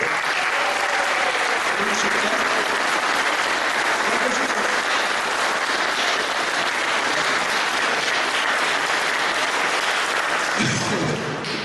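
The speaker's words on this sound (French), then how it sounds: "On peut l'applaudir, est-ce qu'elle est là au fond?" Sustained applause from a large audience at a local parish talent show, loud and continuous for the whole stretch, with faint voices beneath near the end.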